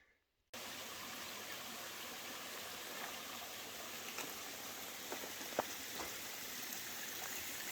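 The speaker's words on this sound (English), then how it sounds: "there's water down there somewhere" Steady rushing water flows continuously in a rainy Maine outdoor setting, starting abruptly after a near-silent moment, with a few faint clicks above the even wash.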